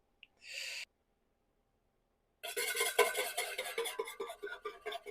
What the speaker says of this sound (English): we're going to start by whisking the 2 eggs